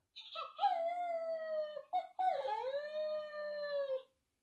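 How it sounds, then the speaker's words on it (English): A synthetic electronic howl from a Dog-E interactive robot toy dog, two long rising and falling wails with a brief break between, clear and close with no other sounds. "And we can howl"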